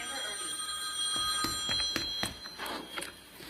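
A telephone rings repeatedly in a home, its bright bell tones sounding in short bursts at moderate level under a steady background hum.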